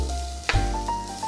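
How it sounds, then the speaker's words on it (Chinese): Milkfish meat sizzles as it fries in sesame oil, a close, bright hiss with one sharp pop partway through and a low hum beneath. "稍微把它煎一下"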